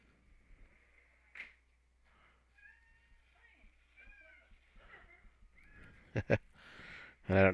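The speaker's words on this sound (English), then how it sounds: "And I don't know if you hear the cat meowing in the background." An indoor house cat meows in the background, faint, drawn-out calls at first, then louder, sharper meows near the end, with a voice nearby.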